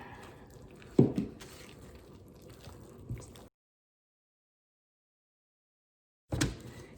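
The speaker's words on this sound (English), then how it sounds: "I'm going to add the lavender and tea tree oil now" Lavender and tea tree oil poured into soap batter, giving soft wet liquid sloshing and a squishy splat up close, broken by a few seconds of silence before a final short wet burst.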